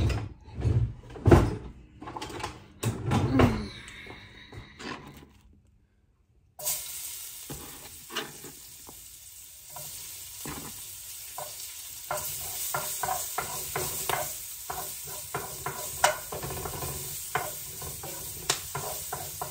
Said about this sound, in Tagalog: So, ilulutuin na natin yung sibuyas at saka ahos.